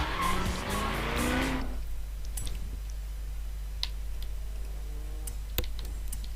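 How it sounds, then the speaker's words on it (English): Car in the Forza Horizon 3 racing game on Xbox One, with a steady engine drone and tire squeal early on, then fading to a low rolling hum with occasional ticks. "the car is just going to keep rolling down the road"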